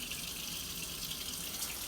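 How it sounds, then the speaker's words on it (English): Cold water runs steadily from a kitchen tap to rinse homemade blender butter, a constant close hissing stream with no pauses or voices. "we're going to turn it on the coldest water that we can"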